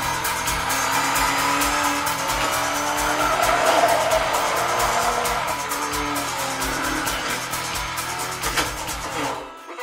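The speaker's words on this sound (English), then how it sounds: "With only minutes of racing left here at Daytona, a pitch battle for the lead is being waged" Race cars battle for the lead at Daytona in a film scene, among them the number 98 Ford: roaring engines, repeated tire squeals and skids, loud and close, sweeping by until an abrupt cut to near silence.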